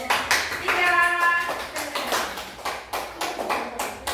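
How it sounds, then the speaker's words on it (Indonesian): Elementary school pupils clap for a classmate group in a classroom lesson, with a voice briefly heard early, then loose, uneven bursts of hand claps that settle into a rough rhythmic patter. "kasih tepuk tangan untuk kelompok 3"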